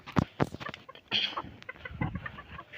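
Chickens cluck close by while being fed by hand, several short irregular bursts of clucking.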